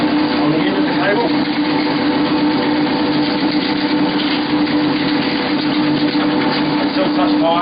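Motorized drain cleaning machine running steadily with its clutch engaged and spinning cable feeding into a drain pipe, a constant loud mechanical drone and whir throughout with no pauses.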